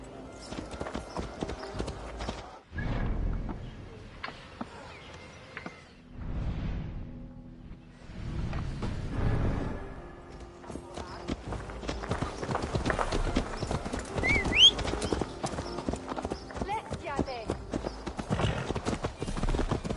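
Hooves clip-clop steadily while a horse is ridden across country in Assassin's Creed Valhalla, the rhythmic beat running under a loud, busy game soundscape with a few brief lulls.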